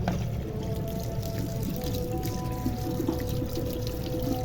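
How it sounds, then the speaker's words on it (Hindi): Cold water pours steadily from a tap over chhena sitting in a muslin cloth strainer in a home kitchen, a continuous close splashing rush that holds an even level throughout. "साथ ही हम ऊपर इसके ठंडा पानी खोल देते हैं।"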